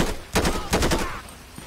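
Gunfire in the video game GTA with the LSPDFR police mod, heard as two quick bursts of several sharp, loud shots in rapid succession, close by.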